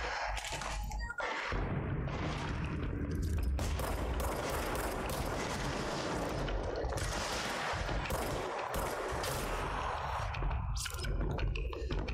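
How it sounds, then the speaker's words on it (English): Dense, continuous gunfire rattles throughout the video game Control, with rapid bursts and overlapping shots, loud and busy like a battle. "I hear gunfire."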